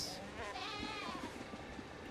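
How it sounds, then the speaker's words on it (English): Goats bleat faintly in a survival video game, a few soft, wavering calls over a low ambient background. "Okay, we've got goats."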